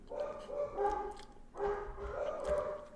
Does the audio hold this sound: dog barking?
yes